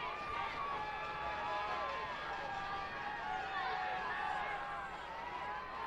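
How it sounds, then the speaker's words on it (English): Youth football fans cheering in the stands at a championship game on a Sunday afternoon, a steady distant crowd roar with voices talking over it throughout. "You can hear the fans on the other side. Yeah. Both fan bases getting into it."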